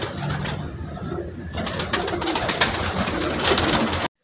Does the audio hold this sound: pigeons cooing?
yes